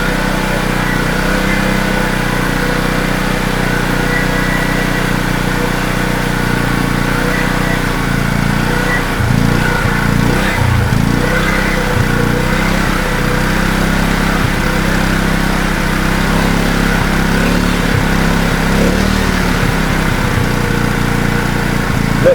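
A Wacker portable generator with a suspected carburettor problem runs without choke, throttle held open: a loud, close, continuous engine drone that wavers and roughens midway, with no voices.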